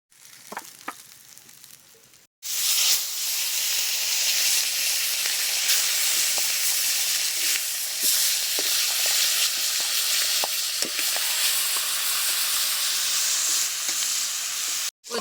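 Fish heads fry in hot oil in a pan, a dense, continuous sizzle that starts abruptly after a brief quieter moment and stays loud and even throughout, with occasional pops and spatters and no talking.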